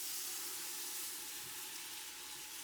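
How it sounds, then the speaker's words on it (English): Milk poured gradually into a pan to start a sauce for a seafood casserole gives a steady, close, rushing pour that runs unbroken with no talk. "So you just add in your milk gradually."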